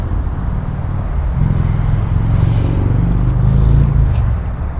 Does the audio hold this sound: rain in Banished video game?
no